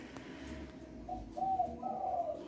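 A white spotted dove coos softly from inside a packed shipping box, a few low, muffled, fairly faint coos close by, with no talking.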